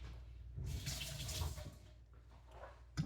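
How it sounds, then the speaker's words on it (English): Tap water runs to rinse off a dish, a soft steady splashing flow that swells after a moment and then eases off, fairly quiet and with no talking. "Rinse it off."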